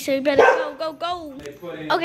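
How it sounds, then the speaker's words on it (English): Pet dog barking several times close to the microphone in quick yips, overlapping a person talking. "sorry for my dog barking"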